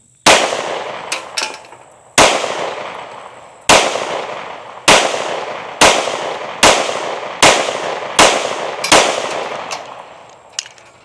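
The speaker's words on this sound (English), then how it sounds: "Let's shoot the non-comped version first." Nine sharp, loud pistol shots from an Echelon 4.0C, non-comped version, fired at an uneven pace with brief ringing decays between them, close and alone.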